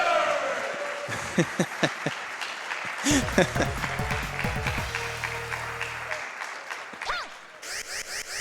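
Crowd applause at the SGDQ 2018 speedrun marathon during a Mega Man 8 race, a steady wash of clapping heard under ongoing commentary voices.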